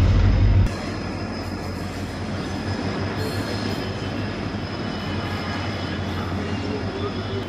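A freight train rolls past Malir railway station in Karachi, Pakistan, a continuous near rumble of wagons with rail clatter and faint wheel squeal, steady throughout.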